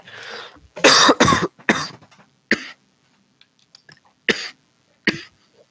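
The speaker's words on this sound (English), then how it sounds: "Cough coming." Several harsh coughs close up: a quick cluster at first, then scattered single coughs separated by quiet gaps.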